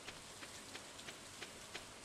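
Rain falls steadily in the farming video game Stardew Valley, a soft hissing patter with faint repeated droplet ticks, quiet and continuous throughout.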